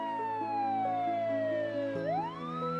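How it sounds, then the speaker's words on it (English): A wailing siren sweeps steadily down in pitch, then whoops back up sharply, loud and close, with an engine droning underneath. "On their way back, flashing sirens stopped them."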